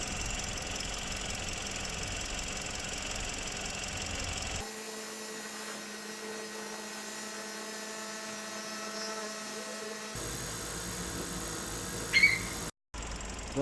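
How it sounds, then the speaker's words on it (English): A warmed-up 2-liter 3Z engine in a Toyota Noah MPV with about 127,000 km idles steadily, a low even hum that shifts character partway through, with a brief click near the end and no talk. "Engine is warmed up and we're going to do our first vibration test."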